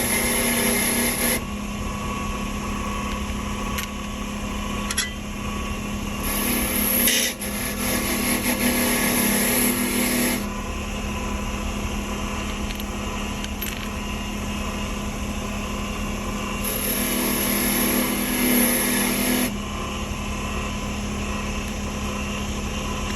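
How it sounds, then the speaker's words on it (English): A wire brush scours two long screws for an old Craftsman heavy-duty drill, giving a steady, close, high-pitched motorized whir that changes in intensity as pressure shifts, with no voices. "I'm gonna hit them with the wire brush real quick"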